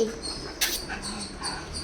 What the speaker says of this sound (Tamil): இப்பெல்லாம் விளையாடுது இந்த நாய்.